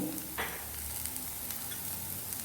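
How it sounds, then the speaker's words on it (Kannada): Vegetables with Schezwan sauce stir-fry over a high flame, a close, busy sizzle with a quick utensil scrape near the start, brief and without speech. "ತರಕಾರಿಯನ್ನು ನೀವು ಹೈ ಫ್ಲೇಮಲ್ಲೇ ಫ್ರೈ ಮಾಡ್ಕೊಳ್ಳಿ."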